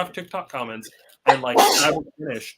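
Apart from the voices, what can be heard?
sneeze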